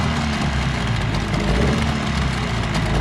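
An outboard motor on a jon boat on the Perdido River runs at a steady idle, a constant loud rattling drone close by with no voices.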